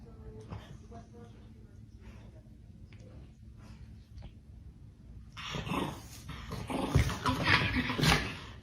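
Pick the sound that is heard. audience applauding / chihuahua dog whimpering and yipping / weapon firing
chihuahua dog whimpering and yipping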